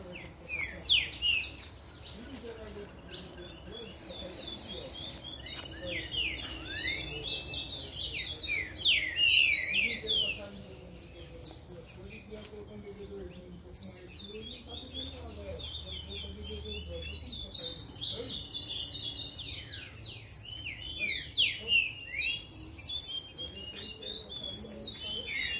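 Several songbirds, among them a green-winged saltator, sing together in chirping, whistled phrases that overlap continuously, fairly close and loud, with no speech.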